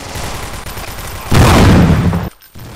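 Rapid, loud gunfire bursts in the Blockade 3D game, then a heavy, booming grenade blast about a second long that cuts off abruptly, followed by more shooting.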